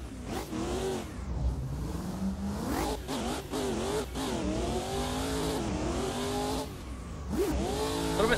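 A V8-swapped BMW M4 widebody competition drift car revs hard on a track, its engine note rising and falling through repeated throttle blips and pulls, with tire squeal mixed in, loud and close.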